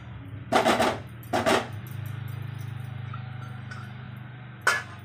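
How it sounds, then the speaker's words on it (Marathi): A metal lid goes onto a pot of steamed coconut rice with a few sharp, ringing clanks close by, followed by a low steady hum and one more clink near the end. "आता याच्यावर झाकण द्यायचं."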